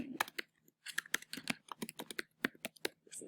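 Rapid, uneven keystrokes on a computer keyboard, close and clear, with short pauses between bursts of clicks as a word is typed in.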